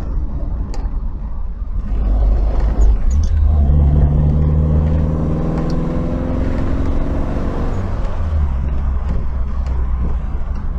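Triumph Dolomite Sprint engine driving along country lanes, a loud steady drone that rises in pitch as it accelerates through the gears, heard close from inside the car.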